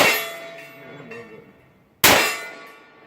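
Two sharp metallic clangs about two seconds apart as bullets from an Aero Survival Rifle in .45 ACP hit a distant steel pistol target, each ringing out and slowly fading; no voices.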